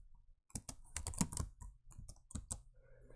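A search being typed on a computer keyboard, a quick close run of clattering keystrokes in short bursts, with no talk over it.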